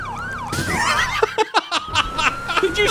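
A wailing police siren sounds in GTA roleplay, its pitch sweeping up and down steadily throughout, while people talk and laugh excitedly over it.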